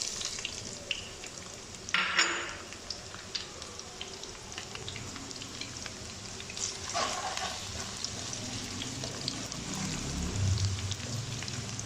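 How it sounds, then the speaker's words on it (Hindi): Onions fry in oil already used for frying taro root, a steady, soft, close sizzle with an occasional clink of a utensil and faint stirring. "उसी ऑयल में हम प्याज डाल देंगे।"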